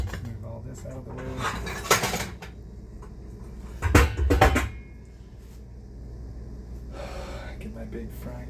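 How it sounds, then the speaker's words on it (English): Big frying pans, one of them scratched Teflon, are pulled out of a kitchen cupboard with metallic clanks and knocks, including a louder cluster of clatters, under steady low background noise and some breathing. "Get my big frying pans out."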